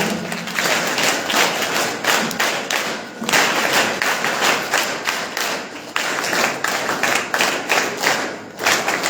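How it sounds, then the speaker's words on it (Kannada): An audience at a school function claps in welcome, sustained loud, dense applause with rhythmic thuds running through the whole stretch. "ಚಪ್ಪಾಳೆ ಮುಖಾಂತರ ಸ್ವಾಗತ ಕೋರೋಣ"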